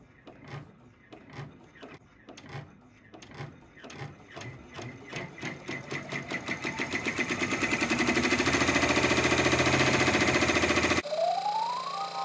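A Babylock Array embroidery machine with a magnetic frame stitches a placement line, its rhythmic needle thumps starting slowly and then speeding into a steady whirring buzz before a short rising tone.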